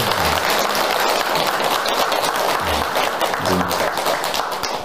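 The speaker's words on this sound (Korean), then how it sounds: "합창 단원들께 큰 박수 한번 보내주십시오" Sustained applause from an audience honouring temple choir members at a Buddhist Nirvana Day memorial service, dense and steady throughout, with faint voices underneath.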